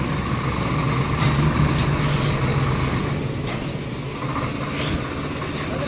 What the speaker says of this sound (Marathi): चाललाय आता तो बाहेर काढतोय ट्रॉली ट्रॅक्टर